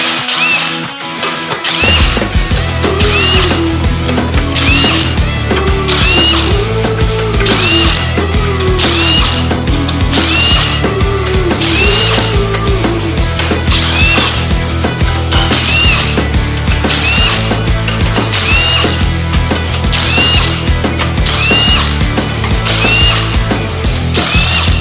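A ratchet spins bolts out of a TH350 transmission valve body in rapid, repeated clicking bursts, close and loud, with a steady mechanical clatter running under it the whole time.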